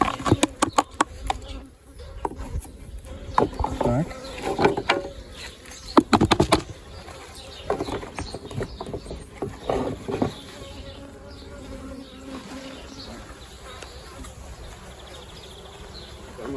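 Honeybees at apiary hives during pollen collection make a steady insect hum, with denser bursts of buzzing and passing bees early on and a quieter continuous drone later.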